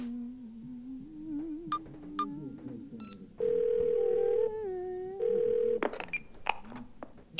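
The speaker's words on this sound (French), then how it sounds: "Téléphone." Telephone keypad being dialed in a video game, a few quick tones followed by two long steady dial tones, with someone speaking French in the background before and after.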